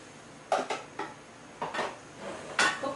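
Dry cake ingredients such as flour being mixed in a bowl, heard as a few distinct clinks and scrapes of a utensil against the bowl at irregular intervals, close and fairly quiet.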